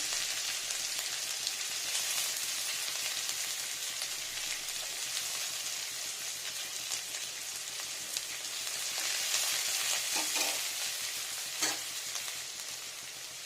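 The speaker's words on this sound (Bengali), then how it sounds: "এখানে দিয়ে নিচ্ছি পেঁয়াজ কুচানো" Chopped onion frying in a pan for a Bengali shukto, a steady broadband sizzle and crackle held at an even level for the whole stretch, with a few brief louder pops or stirs near the end and no talking.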